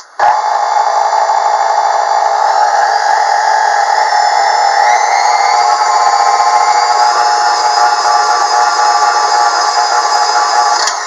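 An electric stand mixer beating powdered sugar into a peanut butter filling, a loud, steady motor whir with shifting whining tones, running continuously close up.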